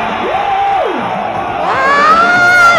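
Concert crowd at a stage show in Dompu screaming and cheering, a loud sustained roar with shrill rising yells swelling toward the end.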